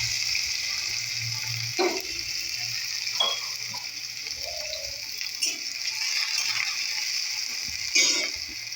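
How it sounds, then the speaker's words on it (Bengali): Snake gourd fries in oil in a home kitchen, giving a steady, moderate sizzle with a few scattered clinks and scrapes of stirring throughout. "চিচিঙে ভাজাটা মোটামুটি হয়ে এসছে"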